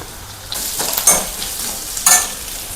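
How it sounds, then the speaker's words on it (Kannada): Ginger garlic paste and green chili fry in a hot pan with a close, crackling sizzle. Two sharper bursts of spatula scraping and stirring stand out over the constant hiss. "ಶುಂಠಿ ಬೆಳ್ಳುಳ್ಳಿ ಪೇಸ್ಟ್ ಹಸಿ ವಾಸನೆ ಹೋಗೋವರೆಗೂ ಅದನ್ನು ಚೆನ್ನಾಗಿ ಫ್ರೈ ಮಾಡಬೇಕು"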